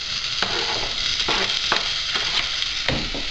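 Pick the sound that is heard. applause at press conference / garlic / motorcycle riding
garlic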